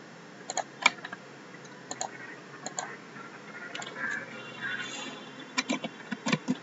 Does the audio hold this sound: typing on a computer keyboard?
yes